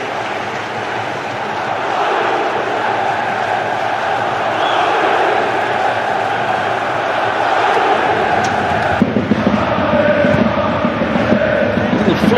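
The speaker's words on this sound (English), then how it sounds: "This crowd really revved up for this one." A football stadium crowd roars steadily during a Barcelona night match, a dense sustained wall of voices with a shift in tone near the end and some sharp peaks of noise.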